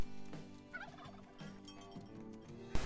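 Turkeys gobble on a farm in a rapid, warbling series of calls, close and moderately loud, with one sharp noise burst near the end.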